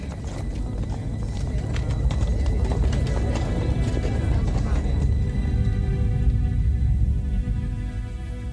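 Horses pulling carts pass by in an archival documentary scene of refugees on the roads near Paris, with a dense, continuous clip-clop of hooves up close that slowly thins out toward the end, overlaid by a voice narrating.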